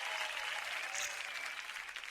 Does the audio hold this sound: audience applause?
yes